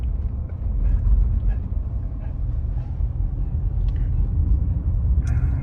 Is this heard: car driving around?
yes